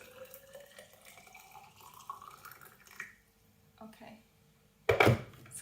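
Water trickling and dripping into a tall container while making twisted candles, ending in a sudden loud splash as some of it spills.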